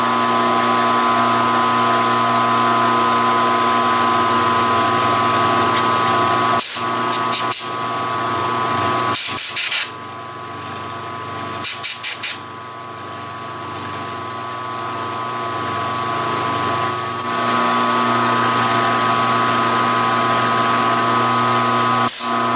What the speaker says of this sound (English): This is a 3/16 end mill.